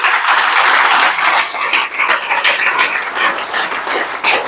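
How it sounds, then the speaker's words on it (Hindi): Audience applause at a lecture-style talk, sustained loud clapping from a crowd filling the whole stretch without pause. "बहुत बहुत धन्यवाद आपका, आपकी ताली बहुत अच्छी है"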